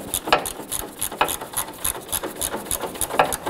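A ratchet works a bolt loose under the front fender of a 1997-2006 Jeep Wrangler, a quick run of close, crisp clicking strokes at an even pace.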